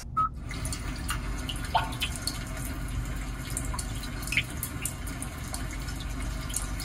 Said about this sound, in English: And next, you have Rainy Day,